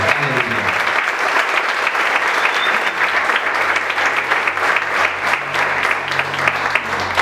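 A church congregation claps steadily through a sermon, the applause sustained and fairly loud from start to finish, with no talk over it.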